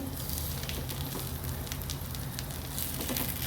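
Steady crackling sizzle of chicken frying in hot oil, continuous and close, with no voices.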